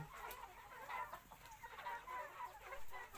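Several Betong chickens, from a flock of about 80, cluck softly and intermittently, fairly faint and at a slight distance, with quiet farmyard background.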